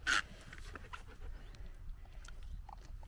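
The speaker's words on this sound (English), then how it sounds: "He's a 7-year-old golden doodle and he's the cutest boy in the world." A seven-year-old golden doodle panting outdoors on a walk, soft quick breaths close by with faint rustling and a brief sharp noise at the start.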